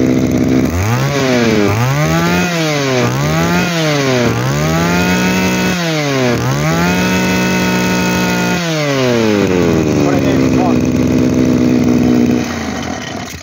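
A Komatsu grass trimmer's small two-stroke engine starts and runs loud and close, revving up and down in a rapid series of blips before settling into a steady high idle, then cutting off near the end.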